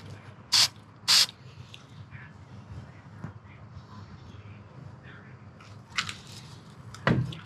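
Spray paint can fired over a stencil on a gun or airsoft piece for DIY camo: two short sharp hissing bursts early, then quieter handling sounds and a final spray burst near the end.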